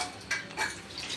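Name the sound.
ladles and vessels clattering while being washed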